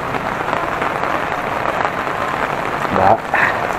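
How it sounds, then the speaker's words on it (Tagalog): Heavy rain from a typhoon in the Philippines pours steadily in a loud, dense hiss, with a couple of brief louder bursts near the end and faint voices underneath. "Gawa na itong pagulan-ulan. Grabe, ulan."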